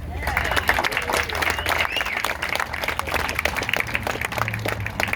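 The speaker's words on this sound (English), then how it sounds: "Want one more round of applause? Let's do that." Audience applause at a post office renaming ceremony in Pacoima honoring Ritchie Valens, steady dense clapping from a crowd for about five seconds, with some murmuring voices and a low hum underneath.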